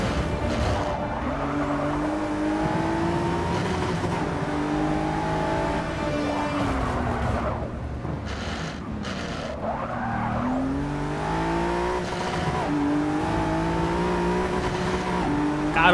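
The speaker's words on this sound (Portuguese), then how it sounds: "O motor desse carro tem um som muito maneiro, mano." A 2017 Ford GT race car engine in the video game Forza Motorsport 6 Apex, racing at Rio de Janeiro, roars continuously and loudly, revving up and down through gear changes with occasional tire squeal.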